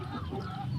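Chickens on a poultry farm cluck softly in a brief, faint burst at a distance, with no talking.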